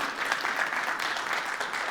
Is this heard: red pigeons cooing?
no